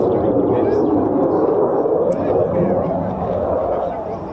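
An F-35 fighter jet flies over RAF Lakenheath, a loud, continuous roar that holds strong and then fades a little over the last second and a half.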